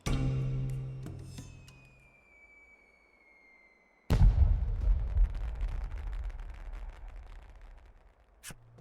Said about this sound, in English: I should like to set off some fireworks then, in honor of the dead.